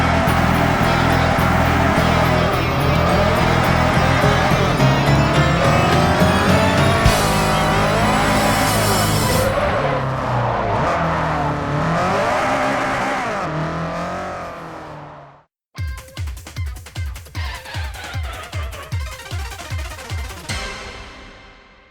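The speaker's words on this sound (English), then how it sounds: "drove back to his apartment as fast as he could go" A modified Honda car driven fast, its engine note rising and falling through sustained high revs, then cutting out briefly before a run of rapid, rhythmic pulses as it accelerates hard again, loud and close with no talk.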